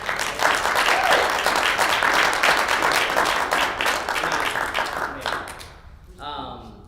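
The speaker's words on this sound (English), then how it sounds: "Round of applause for Megan, actually." Meeting attendees applaud together for about five seconds, a dense steady clapping that fades out before a voice begins speaking near the end.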